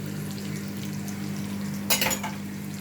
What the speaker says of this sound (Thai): พัดเนื้อใส่นอใหม่ดองเนาะ